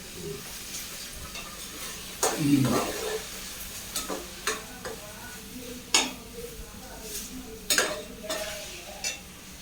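Tamarind curry with chickpeas and peanuts sautéing in a pan, a soft steady sizzle under repeated scraping strokes of a spatula against the metal, with several sharp knocks of the utensil.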